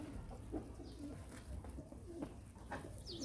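Pigeons being fed wheat coo softly and repeatedly at a moderate distance over a steady low background hum, with no one speaking.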